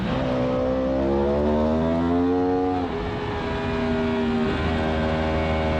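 A Yamaha R1 racing motorcycle screaming at full throttle around the Autodrom Most circuit, a loud sustained high-revving engine note that climbs steadily, dips briefly on a shift near the middle, then pulls up again, with no talking.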